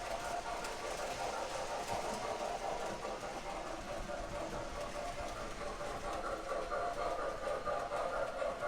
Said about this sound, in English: Here comes our passenger train.